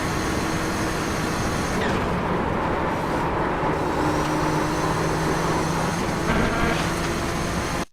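A Nissan GTP ZX-T race car roars at speed around Sebring International in iRacing, its engine a steady, loud, close drone with shifting pitch through gear changes that holds for the whole stretch.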